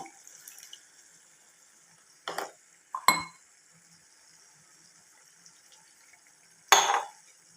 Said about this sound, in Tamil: உங்களுக்கு வேணுங்கிற அளவு சேர்த்துக்கோங்க தண்ணி